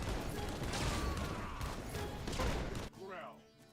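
Dense bursts of gunfire in the ZeroSpace strategy game crackle continuously for about three seconds, loud and close, before cutting off into quieter game sounds with a voice talking.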